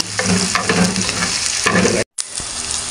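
Onions for a Chowking-style chow fan sizzle loudly in a pan under steady stirring, with scraping strokes, a brief cut to silence, then quieter frying.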